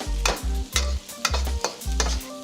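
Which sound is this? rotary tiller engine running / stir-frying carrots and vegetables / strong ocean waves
stir-frying carrots and vegetables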